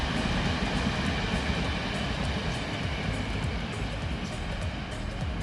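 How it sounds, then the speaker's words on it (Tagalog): A train rumbles past close by, a steady loud roar of wheels and carriages with a continuous rushing noise throughout. "Ayan, dadaan na po ang tren."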